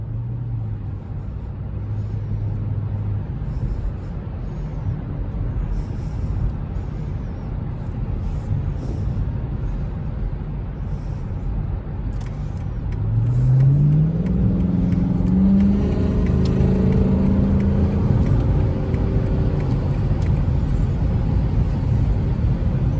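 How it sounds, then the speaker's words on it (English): A Chrysler 300C accelerates hard through traffic, its engine rumble rising into a strong revving surge partway through, steady road noise underneath. "I'm gonna miss how fast this car get up"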